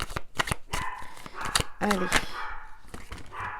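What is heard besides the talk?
dog barking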